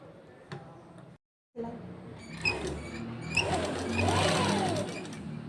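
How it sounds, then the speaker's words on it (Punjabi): Sewing machine stitching straight along the edge of a salwar waistband belt, with a short motor burst, a brief gap, then a steadier, louder run of rapid needle chatter, close and alone. "ਉਸ ਤੋਂ ਬਾਅਦ ਆਪਾਂ ਬਿਲਕੁਲ ਪੈਰ ਪੈਰ ਦੀ ਆਪਾਂ ਸਲਾਈ ਲਗਾਵਾਂਗੇ"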